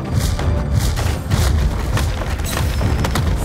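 Musket volley fire in the Road to Valor: Empires video game, a dense wall of booming, overlapping shots and thuds rolling on continuously at high loudness for the whole stretch.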